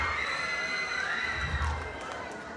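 Crowd cheering and shouting at the Queen of Ilagan 2025 beauty pageant, with a barangay delegation responding to a contestant: a sustained wash of voices and high shouts, loud and unbroken, with tonal sound and possible clapping mixed in.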